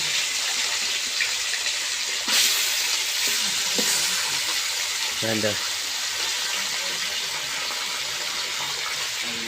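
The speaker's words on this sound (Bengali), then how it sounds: "মোটামুটি আরও একবার ভাজতে হবে মাছটা।" Small pond rohu fish frying in oil, a loud continuous sizzle and crackle with a few brief clatters of a spatula or utensil, steady from start to finish.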